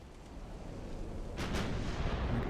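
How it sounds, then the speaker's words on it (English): A warship gun salvo in the naval game Ultimate Admiral: Dreadnoughts, a sudden heavy boom that swells into a sustained rumbling roar over a low background drone. "Full salvo against the Bogatyr."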